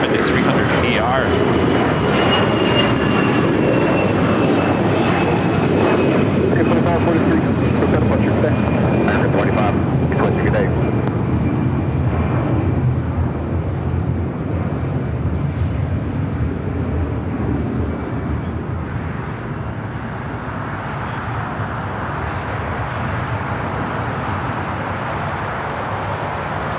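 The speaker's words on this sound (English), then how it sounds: "Next takeoff is Air China, flight 988, heading to Beijing at a 777-300ER." Jet airliner at LAX, an Airbus A321 or Boeing 777-300ER, a loud, steady engine roar that slowly fades over about half a minute, with someone talking throughout.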